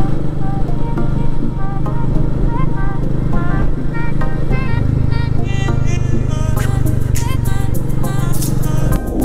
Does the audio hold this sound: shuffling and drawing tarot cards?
no